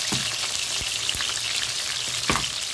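Curry leaves, fenugreek, garlic and ginger sautéing in hot oil for a pineapple and salted-fish-bone gulai, giving a steady close crackling sizzle with a few sharp pops and occasional stirring knocks.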